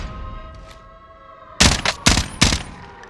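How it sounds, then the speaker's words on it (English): Gunshots in Call of Duty: Warzone, four sharp close-range shots in quick succession, loud and punchy, following a quiet stretch of faint ambient hum. "I shouldn't have missed those shots"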